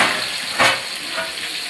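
Cashews, onion, cinnamon, cardamom and cloves sizzling in hot oil in a pan, a steady bright hiss with a short stirring scrape partway through.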